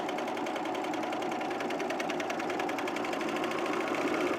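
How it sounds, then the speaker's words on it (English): An overlocker runs steadily, finishing the centre front edge of a Teddy Top garment, a continuous fast mechanical whir with a rapid stitching pulse, close and even throughout. "I'm going to overlock the center front edge on both of these"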